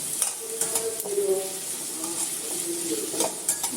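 Chopped onions, shallots and finger-sized pieces of coconut sauté in a pan for papaya thoran, sizzling loudly and steadily up close, with repeated spoon scrapes and stirring strokes.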